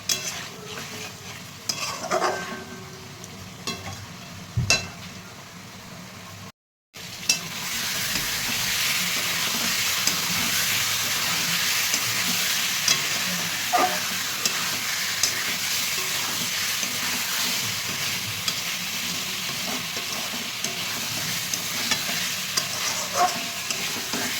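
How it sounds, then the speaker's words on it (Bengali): Egg curry masala is sautéed in a pan and gives a continuous close sizzle and hiss. Irregular spatula scrapes and knocks sound throughout, with a brief dropout early on before the frying steadies and carries on without speech. "ভালো করে কষিয়ে নেবো"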